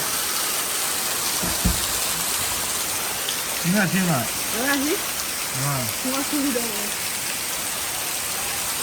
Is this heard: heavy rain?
yes